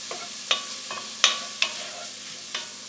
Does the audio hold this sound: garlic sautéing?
yes